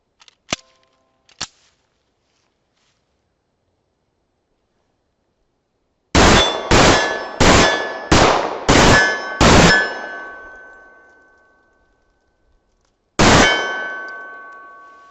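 Gunshots from a .45 pistol fired with only two fingers on the grip, with two faint clicks first, then six sharp loud reports in quick succession with ringing steel hits, a pause, and one more shot, outdoors with no talk.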